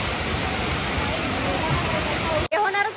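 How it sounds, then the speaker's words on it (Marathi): Sudden heavy rain pours down in a village, a dense, even roar of falling water that cuts off abruptly near the end, with a voice talking. "अचानक पाऊस आलाय"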